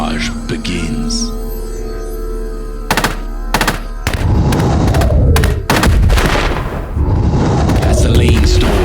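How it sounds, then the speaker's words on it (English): An enemy artillery barrage erupts in a motion comic about Dien Bien Phu: heavy booming blasts and sharp cracks pile up into a loud, dense roar of explosions after a quieter opening. "the enemy artillery barrage begins"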